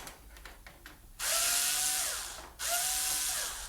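Cordless screwdriver whirring in two loud, close bursts as screws are backed out of a Maco window lock centre gearbox, the second burst following a brief pause.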